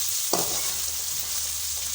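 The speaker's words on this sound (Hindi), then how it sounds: "सब चीज़ों को अच्छी तरह चम्मच की मदद से मिक्स कर लेंगे, हिला लेंगे।" Julienned potato and other ingredients for masala pulao mixed with a spoon in a pot: one short scrape over a constant, close frying hiss, with no voices.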